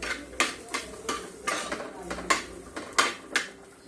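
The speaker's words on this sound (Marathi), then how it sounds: "या 2-3 लाल मिरच्या, थोडासा लसूण, आलं असं आपल्याला थोडंसं अगदी तव्यावर परतून घ्यायचंय." Red chillies, garlic and ginger are sautéed on a griddle, heard as a rhythmic series of about ten metallic clinks and scrapes from a spatula against the pan, moderately close, with little sizzle.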